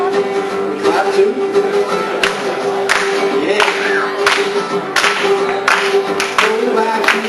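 Audience clapping along in steady rhythm to a live acoustic guitar song at a coffee house, the strummed guitar ringing through as the claps fall roughly on the beat, with a brief spoken word near the start.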